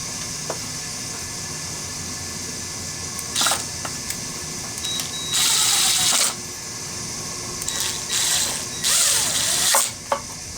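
Screws being driven with a power driver while repairing an MTD 21-inch push mower, heard as several short whirring bursts of varying length over a steady background hum.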